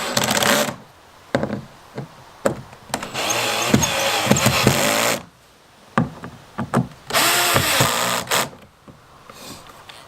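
A power drill with adjustable torque runs in several bursts while a fish finder is fitted to a 2017 Hobie Outback kayak, whirring up and stopping repeatedly, close by, with a few sharp clicks between runs.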